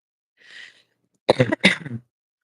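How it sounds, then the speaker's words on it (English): A soft breathy intake, then two sharp, rasping bronchitis coughs in quick succession, close and chesty, with a rough wheezy tail. "Still getting over this bronchitis cough."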